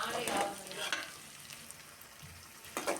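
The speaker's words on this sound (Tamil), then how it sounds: "வெங்காயம் நல்லா வதங்கி வரணும்" Onions sautéing in oil in a pan for an egg and mushroom gravy, giving a steady hiss with stirring scrapes that is loudest at the start and settles into a quieter sizzle.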